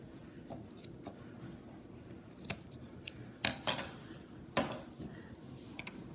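Scissors snip through a piece of tape while a rope end is being whipped, giving a few sharp close clicks and cuts over a quiet background.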